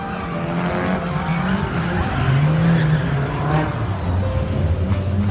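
A loud car engine roars and revs continuously while tires screech and squeal during an illegal street drift in Osaka, Japan, with no break in the noise.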